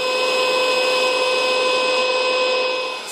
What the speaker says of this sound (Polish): Sprawdzimy czas, jak długo to się będzie pompowało.